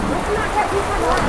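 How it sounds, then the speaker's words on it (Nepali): Steady rain pours down outdoors during a motorcycle ride near Golbazar, Nepal, a dense, continuous hiss with no clear breaks from start to finish. "पानी पर्न थालिसक्यो"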